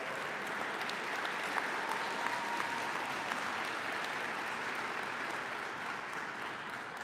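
Steady applause from a seated audience at a DeKalb County event celebrating clean, American-made zero-emission school buses, a dense even clapping that holds for the whole stretch without voices rising above it.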